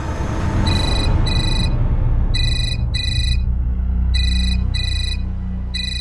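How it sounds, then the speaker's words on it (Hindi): Telephone ringing indoors in repeated bursts of a bright electronic trill, several evenly spaced rings over a steady low background hum. "ऑफिस से फोन है"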